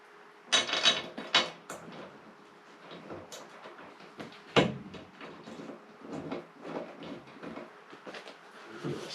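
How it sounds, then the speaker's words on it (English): A sim racing cockpit seat is bolted into place. Close, irregular metallic clicks, clanks and ratcheting knocks come in bursts over a quiet room, with no talk. "so I'll bolt this side in first, because that'll keep the seat held in place."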